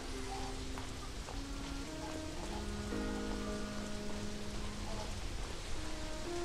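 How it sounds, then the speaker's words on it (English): Steady rain ambience from Halo 3: ODST, a soft continuous patter of drops on surfaces with faint tonal music drifting underneath. "the rain audio is recorded from like in a bathroom, like in a shower"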